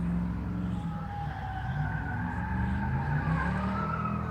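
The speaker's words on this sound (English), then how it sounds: "See how he's holding higher RPM?" Ford Crown Victoria with 3.73 gears holding a high, steady engine drone at a King of the Heap race event, a loud sustained roar with slight pitch wavering and possible tire noise.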